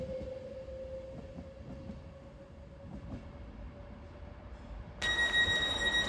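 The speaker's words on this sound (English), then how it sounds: "390-006 now railing off to Manchester Piccadilly" A Class 390 electric train pulling out of Stoke-on-Trent station on the West Coast Main Line toward Manchester Piccadilly, with a steady motor whine over a low rumble, then a brighter tonal hum rising near the end.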